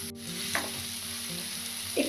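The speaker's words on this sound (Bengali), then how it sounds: "আর দেখো ওই তেলের মধ্যে সবগুলো ভাজা ভাজা হয়ে গেল।" Onion, potato and chicken fry together in hot oil, making a brief, steady, close-up sizzle with a couple of soft stirring scrapes.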